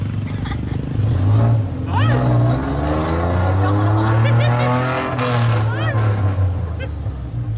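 A car is driven steadily, its engine hum rising in pitch and falling away as speed changes, with people talking over it throughout.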